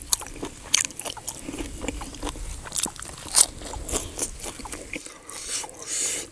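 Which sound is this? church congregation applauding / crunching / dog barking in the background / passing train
crunching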